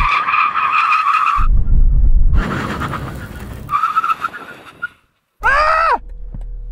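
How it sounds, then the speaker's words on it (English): Tyres squeal loudly as performance cars (an Alpina B3 Touring, BMW M3, M340i and M340d) brake hard from 100 mph, with two long skidding bursts, a brief silence, then a final squeal that falls away sharply. "We're going to do a brake test from 100 miles an hour."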